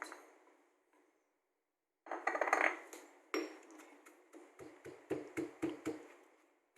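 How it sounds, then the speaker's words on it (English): Panang curry paste ingredients such as shallot, galangal, lemongrass, kaffir lime skin, shrimp paste and salt pounded together in a mortar: a quiet start, then a scrape and a run of sharp, evenly spaced thuds. "I will smash them together until they turn like a paste."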